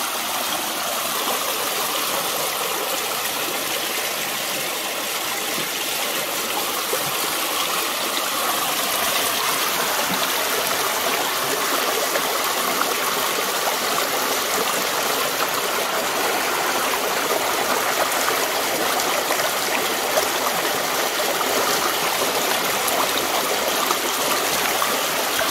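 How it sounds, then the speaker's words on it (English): Steady rushing of a stream, water flowing and trickling continuously at close range, with no voices. "That sound of that water you hear."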